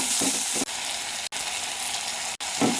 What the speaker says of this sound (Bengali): এবার জিরে আর কাঁচা লঙ্কা ফোড়ন আর তোমার টমেটো কুচি দিয়ে ভেজে নিতে হবে